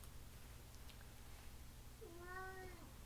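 A kitten gives a single rising-then-falling meow near the end, fairly close, over a steady low hum of background noise.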